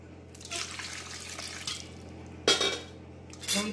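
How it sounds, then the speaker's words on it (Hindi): Water poured into a pot of boiled raw mango pulp while making sweet-and-sour raw mango tahua, with a steady close splashing and sloshing, plus a few sharp clinks of utensils against the vessel near the end. "फिर इसमें थोड़ा पानी डाल लेते हैं,"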